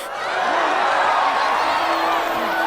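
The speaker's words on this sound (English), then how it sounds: "The way that they're cheering is crazy." A large crowd in the Wicked movie cheers and whoops loudly and continuously, a bright sustained roar with scattered shouts rising above it.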